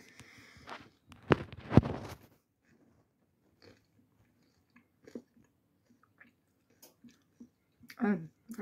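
Someone chews a freshly baked bagel spread with butter, with a few loud crunchy bites early, then soft sporadic chewing clicks and smacks that build again near the end.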